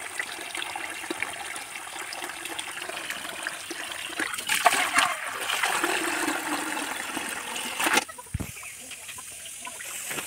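Water runs into a container in a household setting, a continuous trickling, gushing stream that swells midway and is cut off by a brief knock near the end, close and fairly loud throughout.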